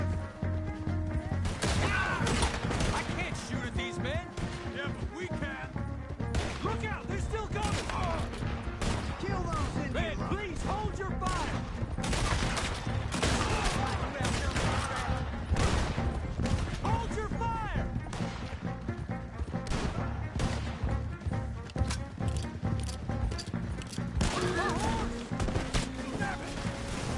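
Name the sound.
gunfire in shootout, video game Red Dead Redemption 2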